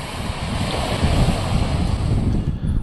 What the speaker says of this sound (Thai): นี่ก็เป็นบรรยากาศทะเลนะครับ